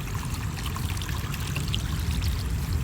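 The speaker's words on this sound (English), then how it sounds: "So got the stream slick running, small little test run" Water runs from a garden hose down a small homemade pond stream over unwashed rocks, a steady close splashing trickle and gurgle that continues without pause.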